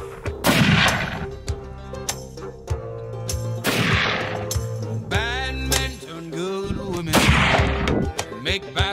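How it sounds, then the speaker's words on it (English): A hunting load fired from a rifle at targets in mountain country: three loud, sharp shots spaced about three seconds apart, each cracking then rolling off in a long echo, with no talk. "I'm going to change these targets out and start shooting a hunting load."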